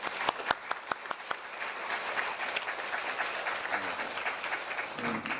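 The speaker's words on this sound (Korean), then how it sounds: "한 교수님께 한 번 더 박수 부탁드리겠습니다" An audience applauds a professor after a lecture, opening with a few distinct sharp claps and then settling into a sustained, even wash of clapping, with a brief voice near the end.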